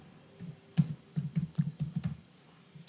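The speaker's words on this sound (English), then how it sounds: "I'm just going to type roll number." Keys on a computer keyboard are tapped in a short, uneven run of about ten close clicks, quiet and alone.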